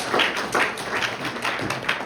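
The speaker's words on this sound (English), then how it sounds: "Can we give a round of applause for Gabe?" A room of supporters at a campaign event applauds for the campaign manager, Gabe, with a modest, even patter of claps at moderate loudness and no talk over it.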